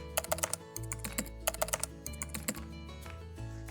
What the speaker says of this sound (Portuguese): E aqui, basta digitar